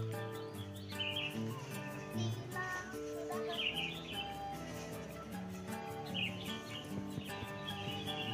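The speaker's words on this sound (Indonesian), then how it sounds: "Burung kutilang." A sooty-headed bulbul chirping outdoors near a house, quiet repeated bright calls over a busy background of low hum and faint activity.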